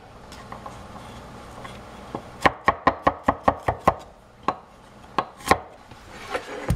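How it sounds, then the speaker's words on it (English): Barley being finely chopped with a knife on a board for a vegetable stew: a quick, close run of crisp, evenly spaced blade strikes, then a few scattered chops, with no talking. "Now I'm going to chop up the barley"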